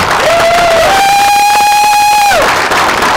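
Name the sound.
crowd applause and cheering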